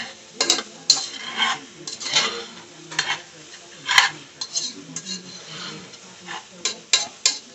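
Okra and vegetables with seasoning are stirred in a pot, with irregular scraping and clinking of a spoon against metal coming in bursts, a faint sizzle underneath, and no talk.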